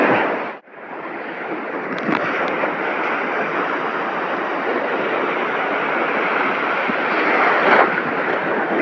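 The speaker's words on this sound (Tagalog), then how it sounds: "Lalaking alon dyan master sa unahan." Large sea waves surge against a rocky fishing shore in a loud, continuous roar with wind buffeting the microphone. After a brief dip near the start, the noise swells steadily.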